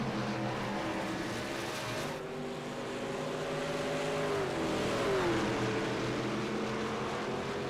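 Race trucks roar around a sandy track in a racing video game, a steady blended engine drone with one pitch sweep as a truck passes, loud and continuous without talk.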